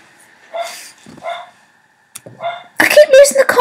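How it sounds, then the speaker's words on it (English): A dog indoors barking in a few sharp bursts, somewhat distant at first and then closer and louder, with brief gaps of quiet between barks. "I'm going to shut my door because the dog's barking."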